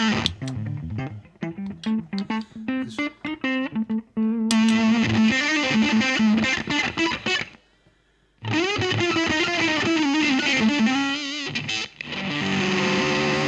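Wiretap fuzz pedal on electric guitar, mismatched impedance with an overdrive in front, gives a thick, buzzy distorted tone: choppy picked notes, then long sustained fuzzy phrases broken by a brief silence, loud and close.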